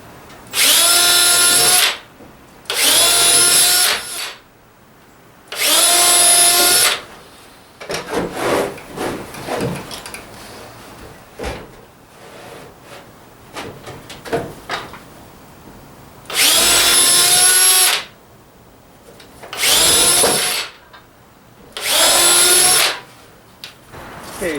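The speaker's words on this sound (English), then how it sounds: "drill my ends" A power drill whines in several short bursts into hemlock wood, separated by quieter handling and rubbing noises, close and loud.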